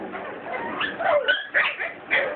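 A litter of seven Corgi puppies about five and a half weeks old play together, letting out high-pitched yips, whimpers and squeaky little barks in quick, irregular bursts close by.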